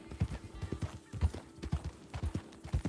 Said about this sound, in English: And there's horses.